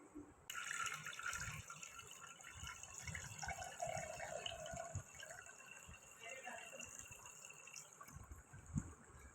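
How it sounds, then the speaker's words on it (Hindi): Water is poured from one pot into another, a sustained splashing trickle close by with faint speech-like sounds in the background. "अभी इस पानी को भी हम भरते हैं दूसरे बर्तन में"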